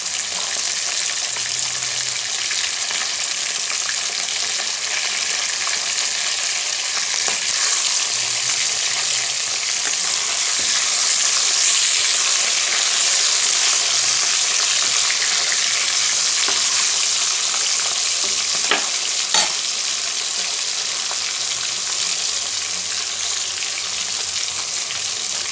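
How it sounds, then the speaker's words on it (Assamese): Fish pieces fry in a pan for an Assamese-style dish, giving a steady, close, loud sizzle with crackling oil and occasional stirring pops throughout. "মাছ ভাজি হৈ গ'ল"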